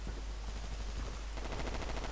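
Video game gunfire in Battlefield 2142, a steady stream of rapid automatic shots, loud and continuous with a sharper, more rhythmic rattle toward the end, with no talking.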